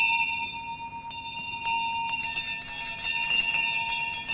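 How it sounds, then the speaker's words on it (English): A single bell begins ringing and swinging, its repeated clear strikes growing busier and more layered as it continues, fairly close and steady with no voices. "he saw the bell begin to swing."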